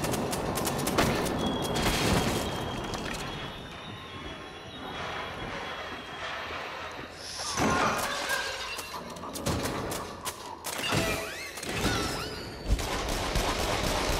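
Guns fire in the Until Dawn: Rush of Blood video game, with sharp repeated shots and bursts, some near and loud, layered over a dense, rumbling game soundscape.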